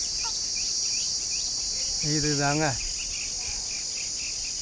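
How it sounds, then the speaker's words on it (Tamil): A cicada buzzes high in the trees as a steady shrill drone through the whole span. Someone briefly speaks over it partway through. "இதுதான் இந்த சில்லுவண்டு."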